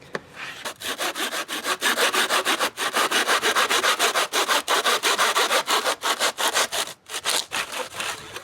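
A hand saw in a hand miter box cutting painted styrofoam stucco trim with cement coating, rapid back-and-forth rasping strokes, loud and close, in a steady rhythm with brief gaps between strokes.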